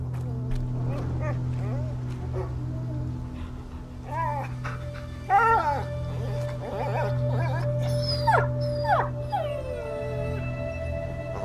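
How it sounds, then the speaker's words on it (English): A dog in the video game A Plague Tale: Innocence whimpers and yips in a series of short, rising and falling cries, fairly close, over a low steady game ambience hum. "My dog!"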